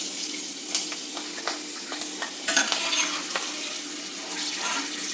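Ingredients spluttering while roasting in hot oil for a lunch-box rice dish, a close, continuous sizzle dotted with sharp crackles and pops, no talk over it.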